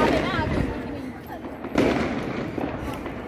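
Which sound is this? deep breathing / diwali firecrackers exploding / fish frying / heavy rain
diwali firecrackers exploding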